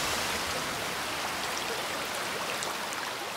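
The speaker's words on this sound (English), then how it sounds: "the floodwaters of the Jordan rush through the riverbed" Floodwaters of the Jordan River rushing through the riverbed, a dense, steady hiss of churning water, loud and unbroken with no voices.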